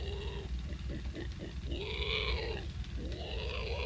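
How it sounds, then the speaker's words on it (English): Shrill, pig-like squeals rise and fall twice over a low, rumbling background, sounding somewhat distant. "a weird sound that sounds like pigs squealing"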